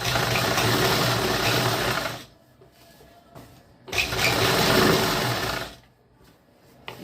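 An electric sewing machine stitches a firm seam on a semi-Patiala salwar in two close, loud bursts of rapid whirring, each lasting about two seconds and separated by quiet pauses.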